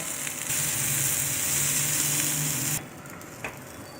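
Ground masala and salt stirred into black chickpea sundal for Navaratri give a loud, steady sizzle in the pan for almost three seconds, then drop to a quieter hiss with one faint knock.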